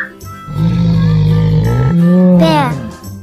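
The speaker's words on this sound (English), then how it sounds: "Bear." A deep, sustained bear roar rumbles close and loud for about two seconds, then swells into a harsher, rising growl before fading, with no speech over it.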